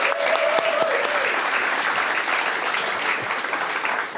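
Sustained audience applause fills a storytelling event for a yarn factory listener show, a steady dense wash of clapping from a room of listeners, loud and continuous without talk.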